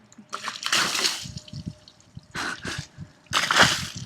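Water splashes and sloshes in bursts over a car as it is washed on a driveway, coming in three loud, close spurts with brief quiet gaps between them.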